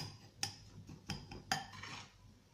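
A metal spoon scooping kunafa from a dish gives three sharp clinks and scrapes against the dish, close and fairly quiet.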